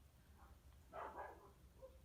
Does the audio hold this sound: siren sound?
no